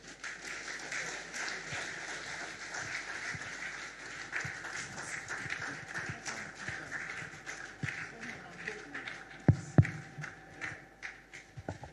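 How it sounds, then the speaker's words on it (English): Sustained audience applause after a public speech, a dense patter of clapping that carries on steadily, with a few louder knocks near the end. "I would request that you give him another resounding round of applause."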